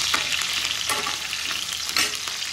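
Curry leaves and green chilies fry in a hot pan with a bright, crackling sizzle, close and continuous, broken by a few scraping stirs.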